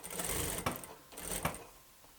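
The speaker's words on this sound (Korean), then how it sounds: "그러면은 미싱 박으면" A sewing machine stitches fabric in two quick, close bursts of rapid mechanical whirring, separated by a brief pause, with no talking.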